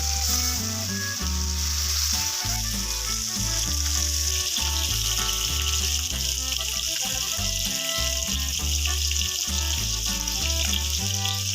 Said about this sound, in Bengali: কড়াইতে সর্ষে তেল গরম করে আগে থেকে নুন হলুদ মাখিয়ে রাখা মাছগুলো ভেজে নেব